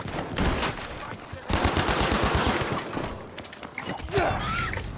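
Rapid gunfire in the World War II shooter Battlefield V, dense bursts of shots crackling loudly through the whole stretch with a brief lull midway before firing resumes.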